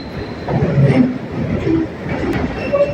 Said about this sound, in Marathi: केवळ आवाज ऐकतोय मेट्रोचा